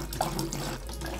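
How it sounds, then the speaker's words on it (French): Two litres of water poured into a bucket for mixing wallpaper paste, a steady close splashing gush that runs continuously without pause. "On commence par mettre 2 litres d'eau."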